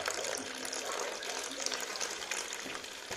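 Water drains from a home heating radiator through an opened valve while the bleed screw lets air in, a continuous splashing, hissing rush of liquid at close range with a faint voice in the background.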